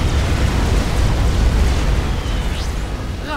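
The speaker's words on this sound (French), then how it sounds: "Et quand une unité de commandement explose," A command unit in Supreme Commander: FTU blows up with a loud, sustained rumbling explosion that roars steadily and then slowly thins out.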